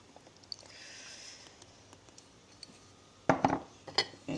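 A spoon scrapes and clinks against a bowl while stirring a coffee scrub mixture with sesame seed oil, quiet scraping followed by a few louder clinks near the end.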